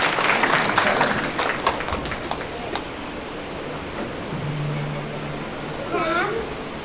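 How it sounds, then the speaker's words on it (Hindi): A church congregation claps loudly for young girls coming forward to recite a verse. The applause is strongest at first, then tapers off into room noise, with a voice briefly audible near the end. "ताली बजा हमारी बच्चियों के लिए जोरदार।"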